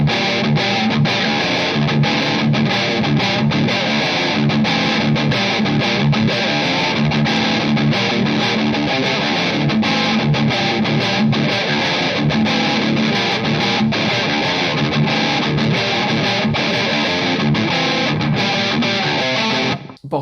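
Electric guitar played through a Boss DS-1 distortion pedal, a dense, loud, continuous wall of fuzzy overdriven chords ringing steadily for the whole stretch before cutting off abruptly at the end.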